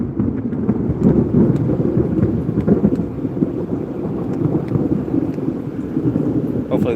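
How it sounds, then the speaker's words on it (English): Thunder from a thunderstorm at Cypress Slough Preserve, Florida, rolls as a continuous low rumble with rain noise, loud and sustained, with no break across the stretch. "Hopefully the sound of thunder's coming through."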